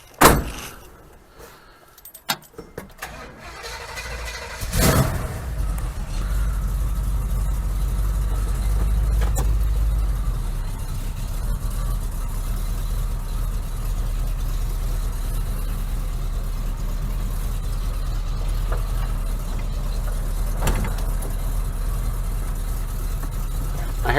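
A 1936 Chevy's engine runs steadily with a low rumbling drone while driving, after a few sharp clunks and rattles at the start, with no talking.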